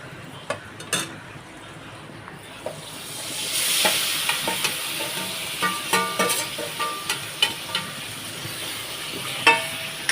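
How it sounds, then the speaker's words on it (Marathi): Prawns sautéing in hot oil for a Konkan-style prawn curry, a steady sizzle broken by repeated scrapes and clinks of the spoon against the pan, close and fairly loud with no talking. "तेलामध्ये चांगलं परतून घ्या कोलबीला"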